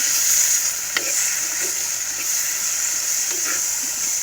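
A cut tomato sautéed and stirred in a pan for a fish-and-eggplant curry, steady frying sizzle with a few scraping stirs of a spoon against the pan, close and continuous with no talking.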